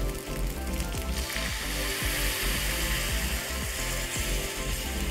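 Sweet corn sizzles loudly in hot ghee in a pan as milk is poured in, a dense continuous frying hiss with scattered crackles and spoon scrapes, close up and without speech.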